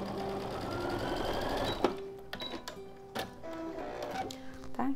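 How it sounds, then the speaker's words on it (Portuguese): A sewing machine stitches fabric pieces of a multipurpose cloth owl, first as a steady whirring run, then as a string of short stop-start bursts, close and clear. "eu junto aqui as duas peças e costuro daqui até aqui"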